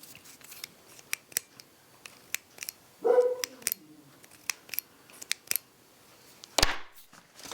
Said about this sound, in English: The sliding metal. Yeah. It's like racking a gun.